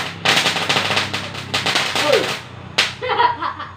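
Mercon firecrackers crackle in front of a house, a rapid dense string of sharp pops and snaps like machine-gun fire, loud and close, breaking off briefly before a final burst.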